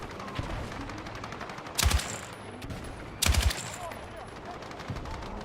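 Gunfire in Battlefield 6, with two loud bursts of rapid shots close by and fainter scattered shots around them, over a busy battlefield background with some voices.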